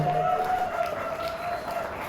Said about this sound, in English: Big round of applause for Mick